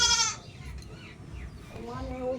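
A goat bleats loudly and close at the start with a wavering cry, then again more softly near the end. Quieter background sounds and distant voices fill the gap between the two cries.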